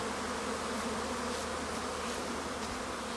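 Two honeybee swarms pour out over an apiary at once, making a dense, unbroken buzz of countless wings that holds steady and loud throughout, with no voices.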